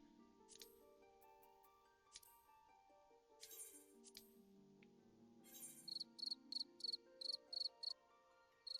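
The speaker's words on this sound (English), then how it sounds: "Yes, they can hear your crickets." Cricket chirps from a soundboard come in a quick, regular series of sharp high pulses over a soft musical background, faint and slightly distant.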